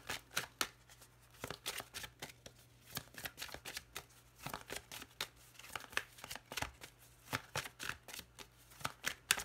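Tarot cards being shuffled and drawn for a weekend energy reading, a steady run of crisp riffling and snapping card flicks, close and fairly quiet, with no talk.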